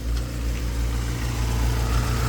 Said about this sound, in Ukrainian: Коротше, мотоцикл працює впевнено, рівно, що цікаво.